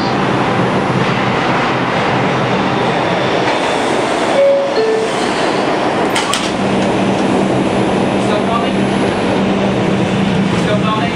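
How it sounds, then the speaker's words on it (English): A Bronx-bound 2 subway train in New York heard from inside the car: loud, steady rumble and wheel roar throughout, with a brief squeal of wheels partway through. "This is a Bronx-bound 2 train."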